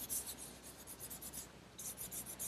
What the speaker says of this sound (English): on this fourth coat, I'm going to use some 600 grit wet dry sandpaper to rub it in